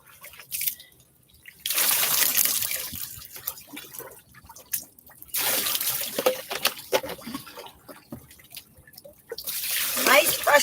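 Running water rinsing red L'Oréal hair dye out of hair, a broad steady wash in long bursts that stops and restarts, with someone talking over and between the flows.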